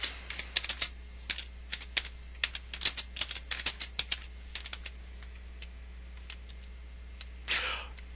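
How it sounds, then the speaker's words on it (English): Typing on a computer keyboard: bursts of close, crisp key clicks and space bar taps, then a pause and one longer rustling clack near the end. "As you may have heard, I hit the space bar quite a few times there."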